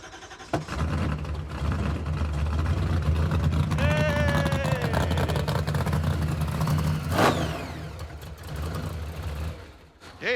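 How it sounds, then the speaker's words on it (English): A Roadkill hot rod cranks and starts on an old-school Hilborn cast throttle body, then idles rough and loud. It revs up sharply a couple of times with a whining sweep, and the rumble stays close throughout. "Trying to get it started now with the new old throttle body."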